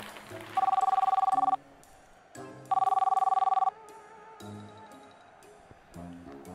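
An office telephone rings in two separate bursts of about a second each, with quieter tones and background sounds between them.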